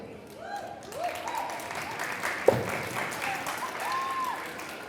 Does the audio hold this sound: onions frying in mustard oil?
no